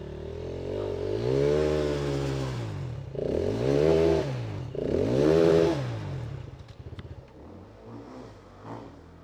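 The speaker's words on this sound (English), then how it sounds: "I could hear bikes trying to get up the right-hand side of Hell Hill" Motorbikes revving hard while climbing Hell Hill: three long, loud engine surges rise and fall in pitch one after another, then a rattling, clattering idle and fainter engine noise trail off, with no voices.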